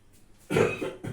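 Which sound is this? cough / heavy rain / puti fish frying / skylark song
cough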